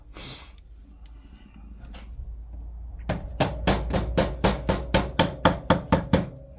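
A shaft is tapped home with a hammer during a Yamaha SRX600 motorcycle restoration: quiet handling at first, then about a dozen sharp, close metallic knocks in a quickening rhythm.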